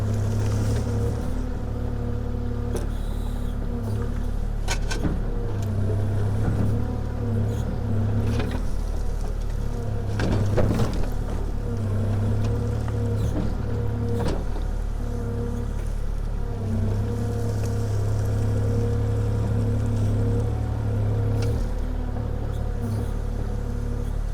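A Kubota KX040-4 mini excavator idles and runs steadily with a constant low diesel drone, with faint mechanical clanks and rattles now and then, heard close by with no talk.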